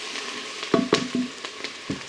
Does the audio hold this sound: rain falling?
no